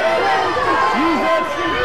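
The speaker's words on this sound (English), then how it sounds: "The crowd cheering on their respective sides" Rugby crowd at a Sale FC versus Rotherham Titans match, a broad roar of cheering spectators with a commentator talking over it continuously.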